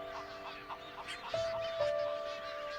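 Several heron chicks call in short, high, nasal cries, some overlapping, close by against a faint steady background hum.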